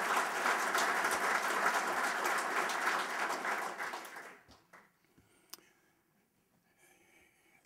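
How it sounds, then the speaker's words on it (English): Banquet audience at a sports hall of fame dinner clapping: a dense, full round of applause from a crowded room that holds steady for about four seconds, then quickly fades out, leaving near silence with a faint stray clap. "How about one more round of applause for the entire group?"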